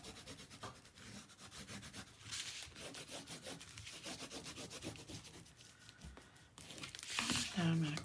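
Tape being burnished down along the spine of an 8.5 x 10 handmade album, a continuous close rubbing and scraping with rapid back-and-forth strokes, growing louder and rougher near the end.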